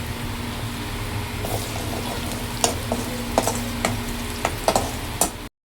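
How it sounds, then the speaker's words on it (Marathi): Onion frying in a pan for a Marathi home-style mutton curry, a steady low sizzle running throughout with scattered sharp scrapes and clicks of stirring toward the end; no one speaks. "इकडे कांदा चांगला भाजते"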